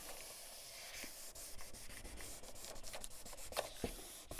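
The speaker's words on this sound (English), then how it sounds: "I'm going to use this to just burnish that down on there" Continuous brisk rubbing as an IOD transfer is burnished onto a rough wooden surface, a close, dry scratchy friction sound in quick repeated strokes.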